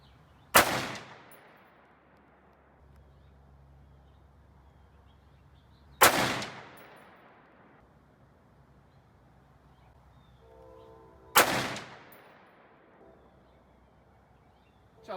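Three loud, sharp shots from a Ruger SFAR 6.5 Creedmoor rifle firing Federal 140 grain ammunition, spaced about five seconds apart outdoors, each followed by a long rolling echo that fades before the next.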